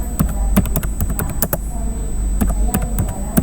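Commands typed on a computer keyboard to create files in a terminal: sharp, close key clicks in quick clusters with a pause in the middle, loud over a steady background hum, no talking.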